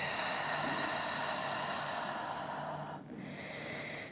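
A long, steady exhale through an open mouth during a vinyasa yoga flow, a close, breathy rush that fades near the end with a brief pause.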